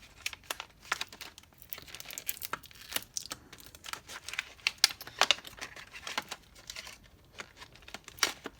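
Package of scrapbooking supplies being opened by hand, a quiet run of close crinkling, tearing and crackling plastic and paper bursts in irregular rhythm, with no talk.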